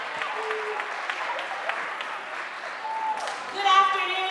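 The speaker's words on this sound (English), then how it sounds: "We can give our head of school a round of applause." Audience applause at a school Founder's Day ceremony honoring the head of school, moderate and continuous under a voice, with a brief swell near the end.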